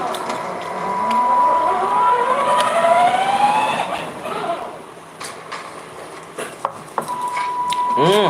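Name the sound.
child's toy car motor sound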